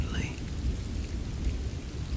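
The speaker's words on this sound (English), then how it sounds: "the rain keeps falling softly outside" Soft, steady rain falling outside, a quiet even hiss with low rumbling texture throughout and no voices.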